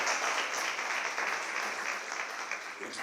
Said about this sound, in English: Y'all can clap on that.